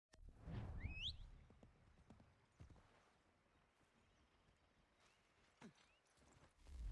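Faint, sparse hoofbeats of a horse walking in the video game Assassin's Creed 3 Remastered, with a brief chirp at the start and occasional soft thuds over quiet surroundings.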